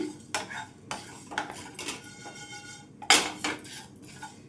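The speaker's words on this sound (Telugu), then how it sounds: "ఆవాలను వేసి ఒక టూ మినిట్స్ అయితే ఇవి కూడా వేయించుకోవాలి" Mustard seeds and fenugreek frying in a pan for tomato pickle, stirred with a metal spoon: repeated clinks and scrapes of utensil on pan over a faint sizzle, close and moderately loud, with no talking.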